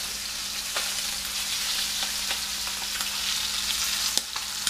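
Puffer fish fry in a pan with a steady, dense sizzle throughout, broken by a few faint clicks and taps of utensils.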